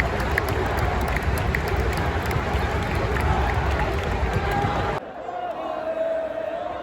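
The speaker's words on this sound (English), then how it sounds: "The crowd is going wild over the triple threat match that features Sami Zayn, the Intercontinental Champion." Wrestling fans at a King and Queen of the Ring event roar and cheer for a triple threat match, a dense, loud crowd din that holds steady and then drops to a thinner murmur near the end.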